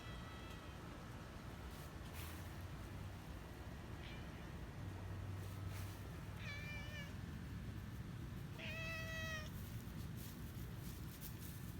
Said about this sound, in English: looks like there's a kitty cat hiding back there too